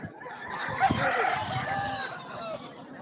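A rooster crows once at a Shiva Gajan village fair, a loud drawn-out call close by over faint crowd murmur.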